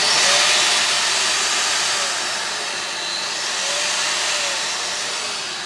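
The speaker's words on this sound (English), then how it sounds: "Got the hoover on." A Hoover vacuum cleaner runs close and loud during electrical work with a self-cleaning tool, giving a steady, broad rushing whine that barely changes in level, with no talk.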